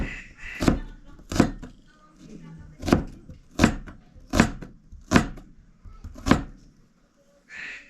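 A knife chops tomatoes and onion on a board in seven sharp, evenly spaced thuds, close and clear, with a quiet voice speaking between some of the strokes.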